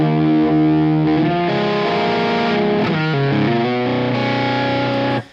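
Overdriven electric guitar lead boosted by a stacked Olympus pedal through a slightly dirty amp, sustained singing notes and bends with thick distortion, loud and continuous before cutting off at the end.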